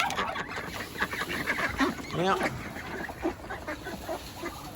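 Ducks on a family farm quacking and squabbling as they are fed at close range, a busy chorus of honks and calls with a brief spoken word over them.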